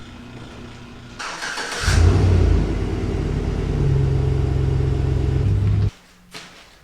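A truck starts up and rolls out of a home garage on a cold morning, a low engine rumble rising after a short burst of noise, holding steady for several seconds, then cutting off abruptly with a faint clunk after.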